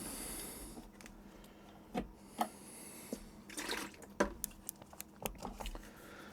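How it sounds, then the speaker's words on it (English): Dirty watercolor painting water tipped out of a small bucket makes quiet, close splashes and scattered drips in uneven bursts over a soft background hiss. "now what I'll do is I'll empty out my water bucket too"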